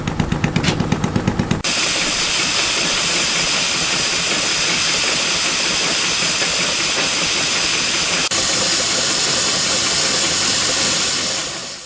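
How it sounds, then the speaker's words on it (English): A steamroller that is short of water vents steam in a loud, continuous hiss that follows a rapid chuffing burst at the start, with a slight shift in tone partway through. "would you believe this steamroller's short of water? It can't move itself"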